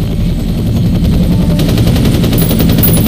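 Rapid automatic gunfire in the video game FEAR, dense continuous bursts of shots with a low rumbling bed, loud and sustained with no talk.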